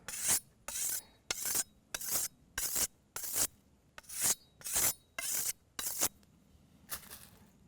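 A knife blade is drawn across the finer side of a sharpener in about ten crisp, even rasping strokes, each a short hiss with a brief gap between, close and fairly quiet.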